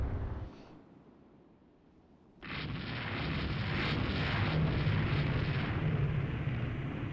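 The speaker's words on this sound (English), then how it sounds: "Those are 6-inch guns from Duplay." Gunfire from 6-inch naval guns in the naval game Rule the Waves 3, opening with a short burst, then a quiet pause before a loud, sustained rumbling roar of blasts that rolls on steadily.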